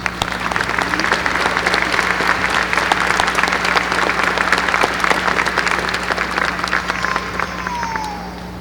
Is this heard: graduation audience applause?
yes